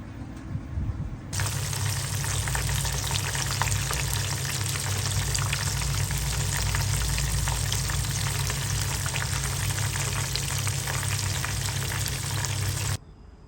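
Vegetarian spring roll filling stir-frying in a pan, a loud, steady, close sizzle that runs unbroken for the whole stretch and stops abruptly at the end, with no talking.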